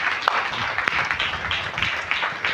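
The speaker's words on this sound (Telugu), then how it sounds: "చప్పట్లు కూడా దేవుని మహిమపరచుదాం" A church congregation claps steadily and thickly throughout, a continuous close wash of many hands with no talking over it.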